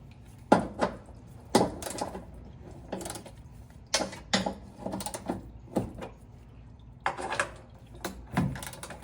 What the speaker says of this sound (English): I need to remove these 4 12mm bolts from this cover.